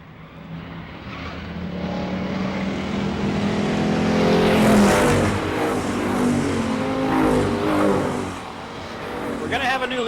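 Super street stock race cars racing at Mesa Marin Raceway, engines roaring and swelling as cars pass, with a commentator talking over the track noise.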